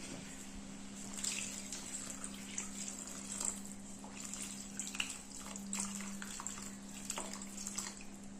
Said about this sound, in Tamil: நம்ம குழம்புக்கு தேவையான தண்ணி ஊற்றிக்கலாம்.